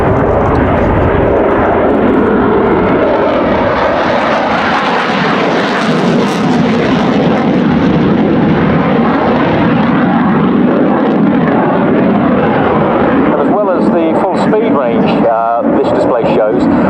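A Belgian Air Force F-16 fighter jet roars in full afterburner during an air show display at RIAT 2017, a loud continuous thundering rumble that sweeps past and fades, with a commentator talking over it.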